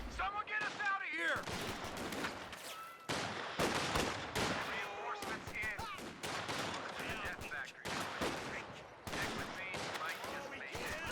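Gunfire in the real-time strategy game Company of Heroes 2, including a sniper, with repeated bursts of shots and loud battle noise running continuously throughout, while a commentator talks over it.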